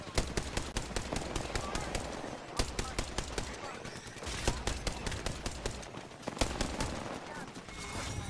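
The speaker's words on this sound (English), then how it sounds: "Opening fire on the enemy." Rapid automatic gunfire in an Apex Legends firefight rattles in dense, continuous bursts with brief gaps, loud and close, backed by clattering game effects.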